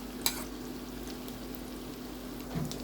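Tuna patties frying in a pan, a steady, quiet sizzle with a low hum beneath and a couple of brief clattering touches as they are handled.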